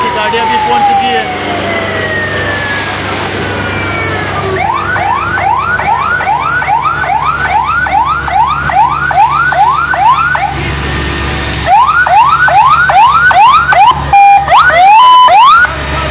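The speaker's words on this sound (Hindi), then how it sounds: "रोड फायर स्टेशन की गाड़ियां भी पहुंच चुकी है।" Loud wailing fire engine sirens sweep up and down in rapid repeated cycles, with traffic rumble underneath and a second siren pattern joining near the end, arriving at a furniture warehouse fire in Quetta.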